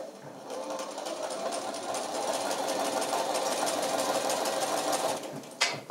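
A sewing machine stitches a seam on a quilt border in one continuous close run of rapid, even needle chatter lasting several seconds before stopping with a couple of brief clicks.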